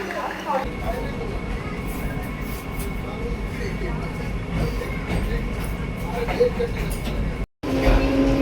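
Interior of the Howrah–New Jalpaiguri Vande Bharat Express running on the rails, a continuous low rumble and rolling noise with faint clicks, while people talk in the background.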